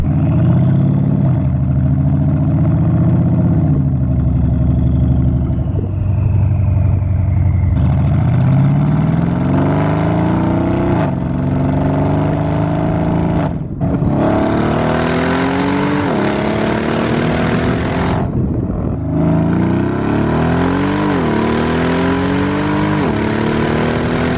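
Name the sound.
Mercedes AMG V8 exhaust while cruising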